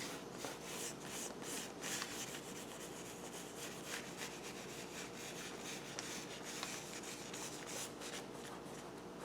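A fingertip rubbing paint across a canvas of painted roses, a soft continuous dry scrubbing with repeated back-and-forth strokes, close and quiet with no talk.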